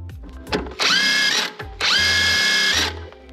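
Power tool straining against a seized nut on the suspension of a BMW E46 328i turbo, two loud sustained whining bursts of about a second each, preceded by short clanks and with a brief pause between.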